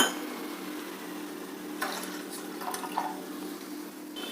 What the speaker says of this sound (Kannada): ಒಂದು ಪಾತ್ರೆಯಲ್ಲಿ ಒಂದು ಕಾಲು ಬಟ್ಲು ನೀರು ಹಾಕ್ತಾಯಿದ್ದೀನಿ